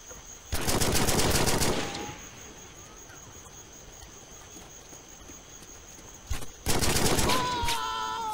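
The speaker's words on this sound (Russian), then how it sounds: "Так, там откуда-то стреляют." Rapid automatic gunfire in a video game comes in two loud bursts, one near the start and another toward the end, separated by a quieter stretch of ambient insect-like chirping.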